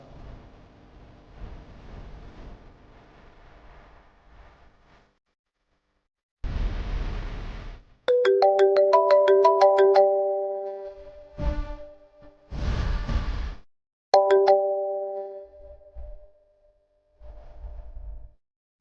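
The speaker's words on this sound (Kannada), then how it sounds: "ನನ್ನ ನಂಬರಿಂದನೂ ಫೋನ್ ಪಿಕ್ ಮಾಡ್ತಿಲ್ಲ." An unanswered phone call in a Kannada TV serial rings out as repeated bursts of a melodic, tonal ringtone, separated by harsh noise bursts and gaps of near silence, fairly loud and close.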